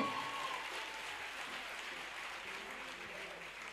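Church congregation clapping, a dense, sustained burst of applause that fades slightly over a few seconds, with no one speaking over it.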